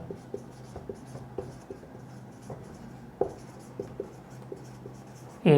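A pen scratching on paper while working a Class 7 maths problem, quick irregular strokes and taps close up, some short scribbles separated by small pauses, fairly faint and without talk.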